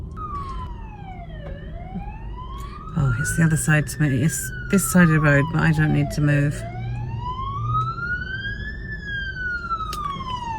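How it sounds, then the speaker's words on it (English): An ambulance siren wails up and down, rising and falling steadily at moderate distance, while a person talks over it. "there's an ambulance somewhere."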